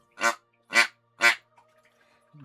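A duck call blown three times in a quick, even series of loud, close, nasal quacks, followed by a brief faint voice.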